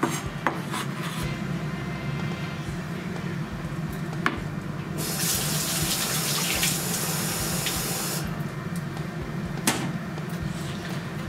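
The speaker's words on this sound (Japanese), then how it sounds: "切ったネギをですね、水にちょっとさらします。" Tap water running steadily into a kitchen sink while chopped green onions are rinsed, a continuous loud rush with occasional clicks and knocks and a brief stronger splash in the middle.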